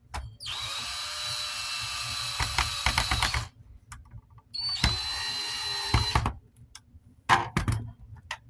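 A power screwdriver whirs in two long bursts and a shorter third, backing out the housing screws of a Lasko dual pivot tower fan, with small clicks and handling knocks between runs.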